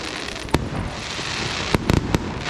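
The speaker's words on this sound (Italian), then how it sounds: "Li stanno dando giù di musica e fuochi d'artificio." Fireworks pop and crackle at a night village festival, with a sharp burst early and then a cluster of quick bangs, heard at a distance over a steady background hum.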